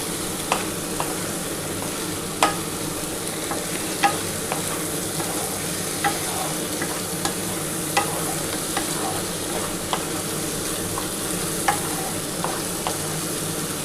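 Masala spice paste sautéed in a pan with little oil while prawns cook with potato and cauliflower, a steady close sizzle broken by regular scraping stirs of a spatula, with no one talking.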